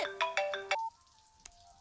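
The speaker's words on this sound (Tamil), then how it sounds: "ஃபோன் அடிக்குது, எடு." A phone plays a melodic ringtone of quick repeated notes up close, then stops, leaving a faint lingering tone and a single click.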